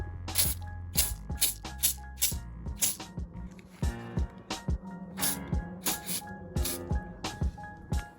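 Cow Clean cleaner sprayed from a trigger bottle onto a plastic composite RC car ramp, a rapid series of sharp close hissing bursts in an uneven rhythm.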